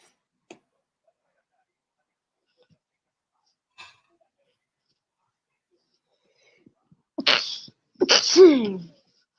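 Near silence with a couple of faint clicks, then a sharp inhaled catch and a loud, close sneeze bursting out near the end.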